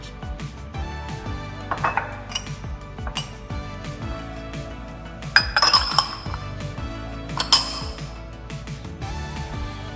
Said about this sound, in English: Once all the ingredients are in, mix it all together evenly.